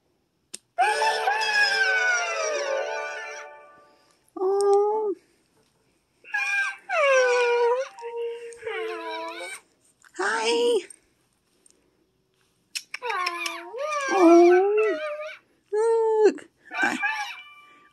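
A toy robot puppy whimpers and howls in drawn-out, wavering high cries, repeated in separate bursts with short silences between them.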